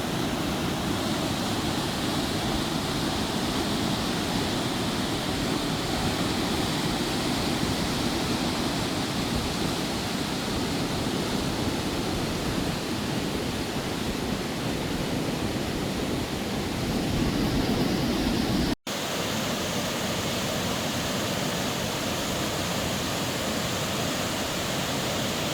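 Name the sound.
Dragon's Mouth Spring hot spring churning water, Yellowstone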